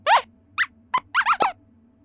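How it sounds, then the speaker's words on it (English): Short, high-pitched squeaks from a penguin, a burst of about six chirpy calls of varying length with gaps between them, close and clear with no talking. "penguin squeaks"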